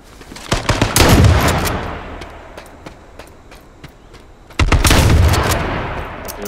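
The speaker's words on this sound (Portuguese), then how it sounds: "Tá rolando tiro." Bursts of rapid gunfire crackle in two heavy volleys with scattered single shots between, loud and close, in a firefight in the video game H1Z1.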